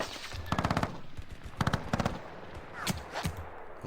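Artillery and gunfire from the Panzer Campaigns wargame: several loud, rapid bursts of shots in clusters, punctuated by sharper single reports, with no talk over them.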